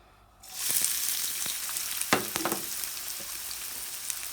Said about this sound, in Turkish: Soğanlarımızı kızgın yağ atıyorum.